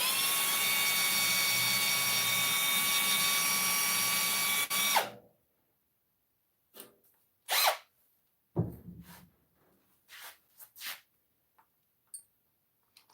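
A loud, close battery-powered electric drill whirs steadily for about five seconds with a dull bit, then cuts off, followed by scattered faint clicks and handling noises.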